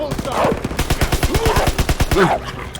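Rapid automatic gunfire rattles steadily in Call of Duty: WWII, a dense run of loud evenly spaced shots over almost three seconds, with an excited voice shouting over it.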